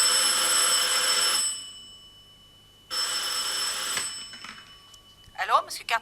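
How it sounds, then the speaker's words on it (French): A telephone rings in a hotel room in two long electronic bursts with a pause between them, loud and close, followed by a brief sweeping tone at the end. "quand le téléphone sonna"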